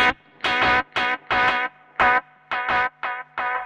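An electric guitar plays through a TC Electronic Plethora X3 delay pedal set to high feedback, giving eight or so short distorted chord stabs in a choppy rhythm with faint repeats trailing between them, loud and close.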